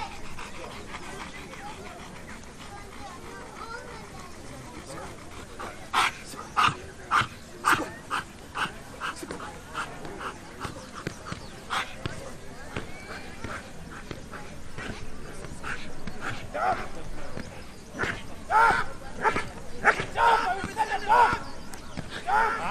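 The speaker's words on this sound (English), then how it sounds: "then you will send the dog for a bite." Security dog in bite training gives a series of sharp barks and yips, loud and close in bursts, with panting and people talking in the background.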